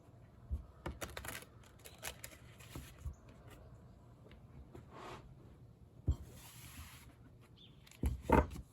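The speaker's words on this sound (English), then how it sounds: "Do some shuffling, of course." Tarot cards are shuffled by hand in a quiet room, giving soft papery riffles and taps in irregular bursts, with a sharper cluster of card slaps near the end.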